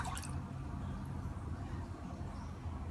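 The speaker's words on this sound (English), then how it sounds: "And I'm going to pour in the rest of the vinegar." Vinegar poured steadily into a cooking vessel for a Sri Lankan pickle, with no water added: a continuous close liquid splash and trickle with a low rumble, a little brighter at the start.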